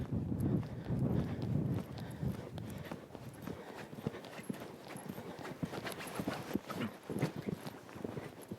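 A horse in a collected six-stride canter over poles toward a fence, hooves beating in a steady, rhythmic clip-clop close by throughout, with no talking.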